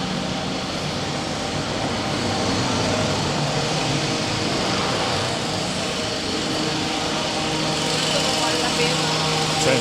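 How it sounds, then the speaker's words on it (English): Construction work near the High Line in New York City produces a constant loud mechanical drone with a broadband engine-like roar that holds steady throughout, heard outdoors. "Sorry about the noise, bit of construction going on."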